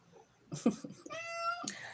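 Cat meowing outside a window with a fan in it: a single drawn-out, clear meow, close and fairly quiet, preceded by faint brief sounds.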